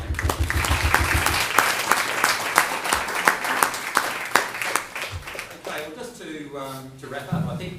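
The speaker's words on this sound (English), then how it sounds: "I think these last two groups deserve a good round of applause" A class audience gives a round of applause for student groups, steady clapping from many hands in a room that fades after a few seconds, with someone speaking over and after it.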